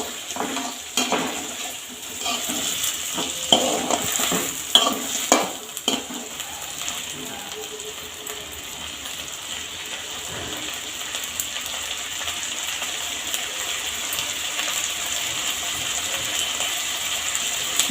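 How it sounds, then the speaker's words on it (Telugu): Goat brain frying with garlic and curry leaves in a pan over a low flame. A steady soft sizzle runs throughout, with clinks and scrapes of stirring near the start. "ఇలా బ్రెయిన్ అనేది యాడ్ చేసుకోవాలి. ఫ్రై చేసుకోవాలి సిమ్లో పెట్టి కొంచెం."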